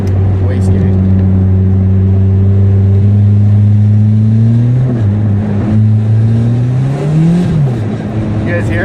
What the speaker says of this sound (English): Let's see if we can hear the wastegate.